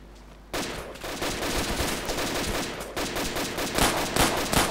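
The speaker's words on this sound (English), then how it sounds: "we're getting shot at" Gunfire in the video game Arma erupts after a brief quiet moment into dense, loud, rapid bursts of shots that overlap continuously with sharp cracks throughout.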